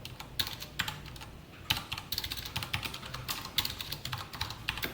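Rapid typing on a computer keyboard during a Python programming lesson, with steady bursts of close, crisp keystrokes and short pauses, no talking.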